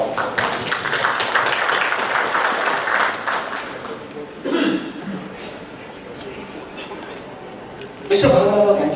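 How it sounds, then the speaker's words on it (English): Conference audience applause rolls for about four seconds at a financial inclusion session, then fades into quieter room noise broken by a couple of short bursts of sound. "please give a big round of applause to all of you"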